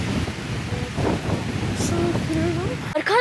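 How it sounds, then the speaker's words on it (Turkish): Strong, cold wind buffets the microphone in an abandoned Aegean village near Urla, İzmir, a steady loud rushing roar with gusts, ending in a brief rustle. "Hava da bugün çok rüzgarlı ve soğuk."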